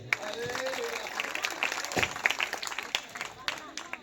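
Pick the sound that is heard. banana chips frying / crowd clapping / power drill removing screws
crowd clapping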